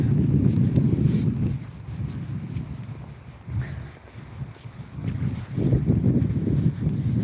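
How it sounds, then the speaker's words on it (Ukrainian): Gusty wind buffets the microphone in low rumbling bursts, easing off in the middle and then picking up strongly again. "Так, щось вітер починається."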